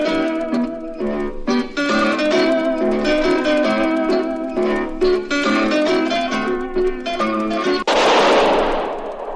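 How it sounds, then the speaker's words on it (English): A single sharp gunshot fires as a sound effect in a 1951 radio drama, cutting in loud and close right after a stretch of zither music. "That was the shot that killed Harry Lime."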